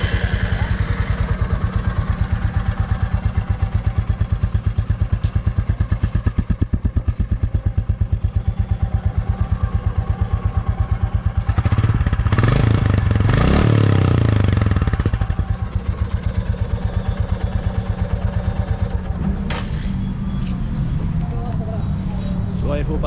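A 2023 Royal Enfield Classic 350 motorcycle engine runs close by with a steady thumping idle, swelling louder for a few seconds in the middle before settling back, with clattering mechanical noise throughout.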